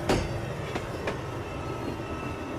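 Amtrak ACS-64 electric locomotive passing on the Northeast Corridor, a steady rolling rumble with sharp rail clanks at the start and a few more knocks as it goes by.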